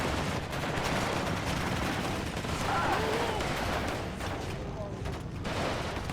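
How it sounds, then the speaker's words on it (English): A woods firefight in the war game Warno between Spetsnaz and 82nd Airborne units rattles with steady distant gunfire and scattered crackling shots, held under someone talking throughout. "They're seeing this massive firefight happening in the woods right now."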